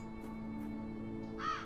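A crow caws once in the video game Black Mirror III, a single harsh call standing out near the end over a steady low ambient drone.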